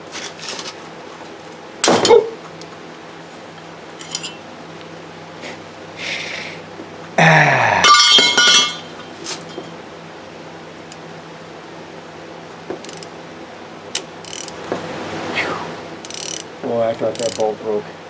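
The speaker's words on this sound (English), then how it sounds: "I thought that bolt broke. The way that snapped, it is moving." A stuck bolt on a 2002 GMC Sierra being worked loose with a wrench and pipe extension during a power steering oil cooler replacement: scattered metallic clicks and clanks with one loud sharp snap-like burst midway, close by.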